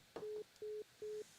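A phone line plays its call-ended signal: three short, evenly spaced electronic beeps, faint and steady with nothing else over them.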